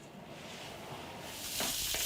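Seasoned rabbit, rubbed with salt, pepper and thyme, sears in a hot pan, a steady sizzle that swells louder toward the end.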